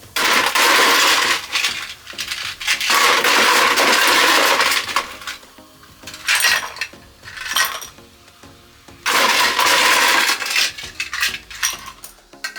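Ice cubes clatter into a glass while a Long Island Iced Tea is mixed, a few loud bursts of clinking and rattling with short quieter gaps between them, close and with no talk.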